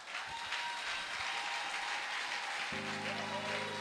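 A church congregation applauding and acclaiming God, a steady wash of clapping and cheering heard at moderate distance, with a sustained musical tone entering near the end.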